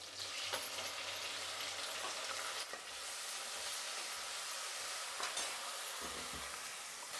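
Tomatoes and curry leaves hiss gently in a pan of oil for horse gram rasam, a soft continuous sizzle with scraping stir strokes and light clatter, fairly quiet and without speech.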